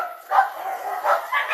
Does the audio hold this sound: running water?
no